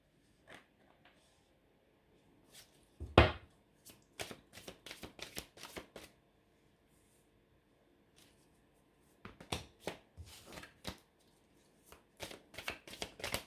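Tarot cards are shuffled and drawn in bursts of quick papery riffling and flicks, with one louder slap and quiet pauses between, close and without talk.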